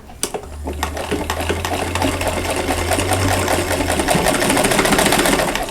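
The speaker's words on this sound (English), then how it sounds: "I'm just going to sew down a short ways because I need some free ends here to sew together." A sewing machine runs steadily, stitching a short way down a fabric Christmas mug rug, with a continuous rapid mechanical whir and rattle, loud and close, and a low motor hum that drops out partway through.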